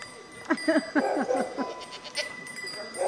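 Goats bleating on a Rhodope mountain farm in Skrebatno, Bulgaria: several short, close bleats in quick succession, then a longer wavering call, with faint bell-like tinkles in the background.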